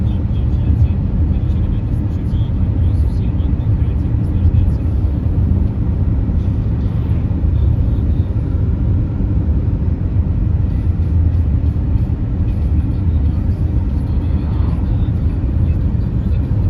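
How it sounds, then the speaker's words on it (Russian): Traffic heard from inside a moving vehicle on a highway in the Komi Republic, a dense, steady low road rumble that fills the whole stretch, loud and unbroken, with occasional faint higher engine tones. "Машин, кстати, очень много на трассе."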